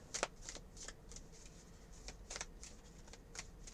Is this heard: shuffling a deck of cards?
yes